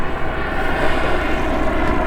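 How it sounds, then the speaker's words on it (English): A news helicopter flies over a boat on Raystown Lake, a steady loud rotor-and-engine drone that fills the whole stretch without pause or fade, with no talking over it. "And that chopper's checking me out."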